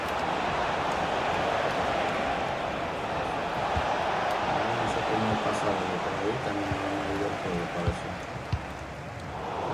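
A large stadium crowd in the FC25 football video game roars in a continuous dense wash of cheering, with a commentator speaking over it.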